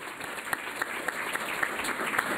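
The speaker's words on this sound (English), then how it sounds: "So I want you to give yourselves a round of applause for what you've accomplished" An audience at a library talk applauds itself, a steady wash of moderately distant clapping with a few sharper claps standing out, continuous for a couple of seconds.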